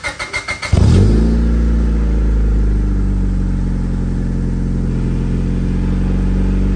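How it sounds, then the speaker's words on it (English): A Honda Civic EK hatchback with a newly installed exhaust cranks with several starter whirs, then fires and settles into a loud, steady idle close by, with a possible exhaust leak from an untightened middle pipe. "give you guys an exhaust note just with how it's installed right now"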